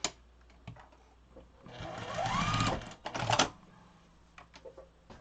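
Sewing machine stitching a seam on a quilt block, running in a steady mechanical whir that builds to a loud sustained burst in the middle, with softer clicks and handling noises before and after.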